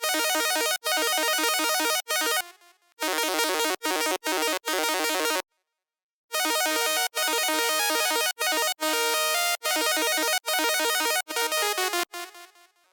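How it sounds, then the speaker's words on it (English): A fast, bright Serum synth arpeggio in a dubstep riddim drop runs in rapid repeating notes, loud and continuous, broken by a few short stops and a brief full silence midway. "the characteristic of the drop is this ARP going really fast in the background"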